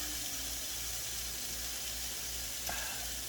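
Vegan Singapore mei fun rice noodles steaming and gently sizzling in a pan, a steady soft hiss close up with no talking.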